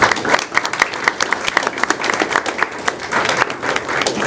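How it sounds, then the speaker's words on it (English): Loud, dense applause from a crowd at a school board of education meeting, continuous sharp clapping sustained for several seconds close to the microphone. "There's a lot of applause tonight."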